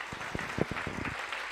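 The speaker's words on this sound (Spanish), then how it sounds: "Dé ese fuerte aplauso al Señor en esta mañana" Congregation applauding during a Sunday morning church service, a brief patter of clapping with distinct individual claps standing out, fairly soft and close.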